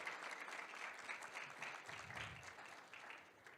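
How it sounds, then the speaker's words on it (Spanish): Very faint applause from the audience at a petrochemical industry expert panel, a soft continuous patter of clapping heard from a distance for a few seconds. "Un fuerte aplauso, por favor."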